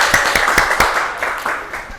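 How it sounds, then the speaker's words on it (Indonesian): A classroom of students claps for a classmate during a microteaching lesson, a short burst of several separate hand claps, fairly close and loose in rhythm, lasting about two seconds. "beri tepuk tangan pada Mbak Nia."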